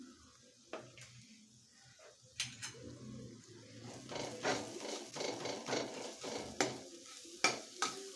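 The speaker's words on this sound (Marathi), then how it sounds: "मसाले व्यवस्थित परतून घ्यायचे" Spices with Kashmiri chili powder being sautéed and stirred in a pan for a Maharashtrian bhogi vegetable dish, with a steady low sizzle and repeated scraping, clinking strokes of a spoon against the pan, growing busier over the second half.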